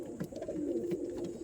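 A tame household pigeon coos close by, a soft, low, rolling call repeated in short pulses over a quiet background.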